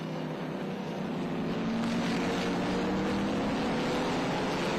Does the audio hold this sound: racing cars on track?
yes